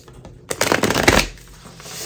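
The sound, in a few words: shuffling Wild Unknown tarot cards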